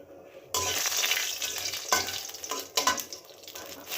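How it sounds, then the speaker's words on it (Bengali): Dried chillies and panch phoron sputter in oil in a kadai, a sudden loud sizzle that starts after a quiet moment and keeps crackling, with brief spikes as the pan is stirred. "পুরনের জন্য কড়াইয়ের তেল দিয়ে শুকনো মরিচ আর পাঁচ পুরন দিয়ে দিয়েছি"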